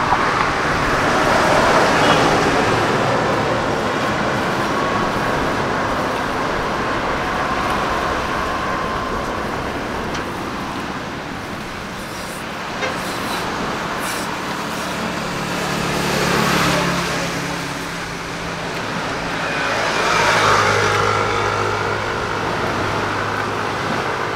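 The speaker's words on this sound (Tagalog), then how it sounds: "Maraming dumadaan ng sasakyan." Vehicles pass steadily along a road, their broadband traffic noise swelling and fading as several go by over a continuous, moderately distant roar.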